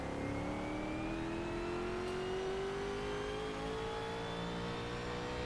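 A WSC Legends race car on the Riverside track in a racing video game revs hard, its engine note climbing steadily as it accelerates, loud and continuous with no talk over it.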